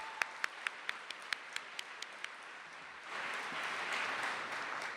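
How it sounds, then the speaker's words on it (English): At a county State of the County address, a few isolated hand claps ring out one by one, about ten sharp claps, before a broader wave of audience applause swells in and carries on steadily. "Yeah, that deserves applause."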